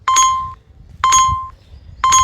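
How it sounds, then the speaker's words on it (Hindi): A JCB excavator's loud electronic warning chime repeats about once a second, each a short ringing tone over a low engine rumble nearby. "जेसीबी है यहाँ पर एक जो चल रही है, घंटी बज रही है अभी तक भी।"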